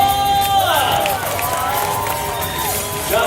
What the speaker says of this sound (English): Audience, let's cheer him on.